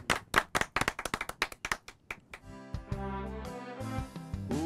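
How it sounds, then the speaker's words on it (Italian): Sparse, loud claps from a small audience at a live song performance ring out one by one for about two seconds, then give way to music starting up. "Ma un applauso lo farei."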